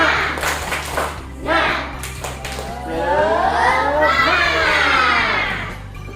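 Children in a classroom break into a lively clapping chant with shouting and cheering voices, rhythmic claps mixed with excited sung calls that rise and fall over a steady background hum.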